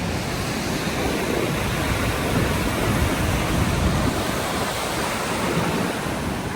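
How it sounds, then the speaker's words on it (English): Nevada Fall in Yosemite plunging nearly 600 feet down a granite cliff into mist, heard as a steady, dense roar of rushing water that holds unbroken throughout, with no voices. "Nevada Fall plunging nearly 600 feet down the granite cliff, the white water exploding into mist below"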